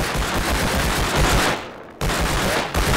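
Video game gunfire: a rapid, loud automatic burst rattling continuously, a brief cut to near silence, then the firing resumes just as hard.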